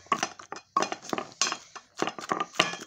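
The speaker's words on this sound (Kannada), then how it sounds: "ಬದ್ನಿಕಾಯಿ ಹಾಕೊಂಡು ಈ ಥರ ಜಜ್ಕೊಳತ್ತೀನಿ ರೀ" Roasted brinjal is mashed with garlic and salt in a bowl, giving repeated sharp clinks and scraping knocks of a utensil against the dish in quick irregular bursts, close and clear, with no talk.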